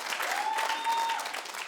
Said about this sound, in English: Clap if you're 50 and up.